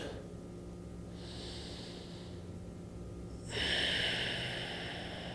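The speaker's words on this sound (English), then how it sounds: "Breathing in and out of the nose." Slow breaths drawn in and out through the nose during a gentle morning stretching routine: a soft airy inhale and exhale, then a louder, fuller breath, close and alone.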